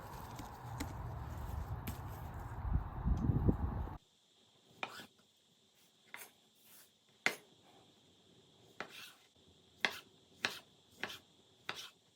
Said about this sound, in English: Now let's go ahead and chop up these tomatoes and let's keep on cooking.